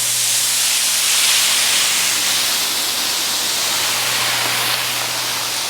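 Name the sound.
steam hissing off a hot flat griddle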